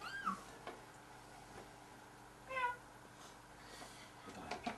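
A cat meows a couple of times, faint and somewhat distant, with quiet pauses between the calls.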